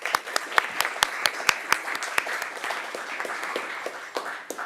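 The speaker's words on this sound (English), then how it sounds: "We'll give them a round of applause." Applause from an audience at a city council meeting, a steady wash of many hands clapping with a few sharper individual claps standing out, moderately loud and continuous throughout.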